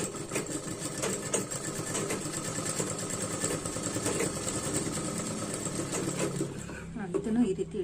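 A sewing machine stitches tucks on a boat-neck blouse, whirring steadily and close for several seconds under a speaking voice before slowing and stopping near the end.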